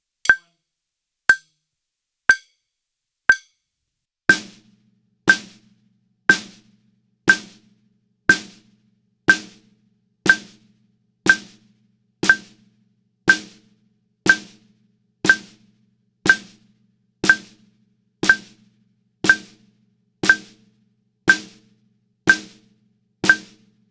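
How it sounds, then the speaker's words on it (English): A snare drum plays steady quarter notes over a metronome, about a dozen and a half crisp, evenly spaced hits with short ringing decays after the first few bare clicks. "Quarter notes on the snare drum"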